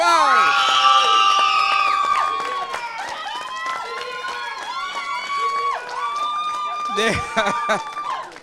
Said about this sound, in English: I really had to give them a minute to get themselves together after that screaming.